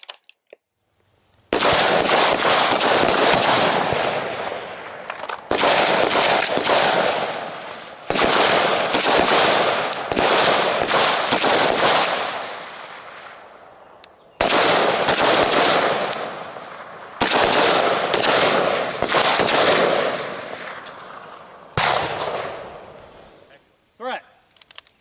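Loud close-range rifle or carbine fire comes in rapid bursts during an emergency reload drill, with several dense volleys broken by short pauses. Three rounds are fired into a target after the reload.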